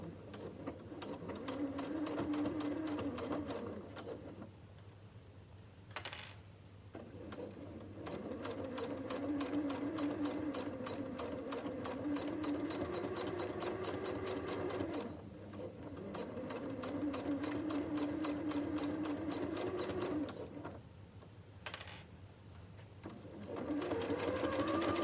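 A sewing machine stitches a boxed pencil case in long, rapid runs with brief pauses between, close and clear, with a couple of sharp clicks at the stops.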